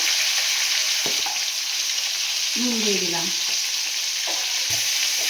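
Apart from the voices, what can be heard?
frying green banana and eggplant with turmeric and salt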